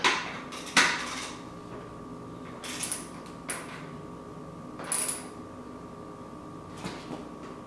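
Metal tool work on a Honda Rebel motorcycle while bolts are torqued down with a ratchet: a few sharp, separate metallic clanks and clicks spread over several seconds against a quiet, steady room hum.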